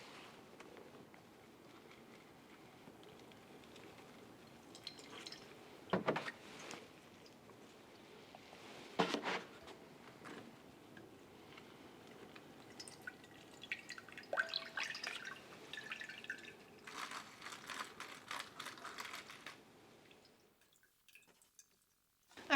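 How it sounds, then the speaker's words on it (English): Water is poured over a potted philodendron and drains away, with quiet trickling and dripping, a few louder splashy bursts, and a brief run of flowing water near the end. "I'm gonna water over this because I have to wash it out anyway."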